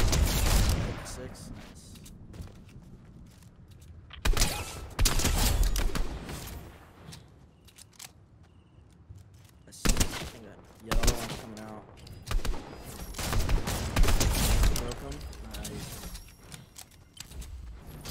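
Repeated bursts of close gunfire from a Fortnite match without building, loud volleys separated by quieter stretches, with players talking over and between the shots.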